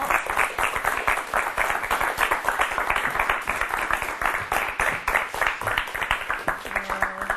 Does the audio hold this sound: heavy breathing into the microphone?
no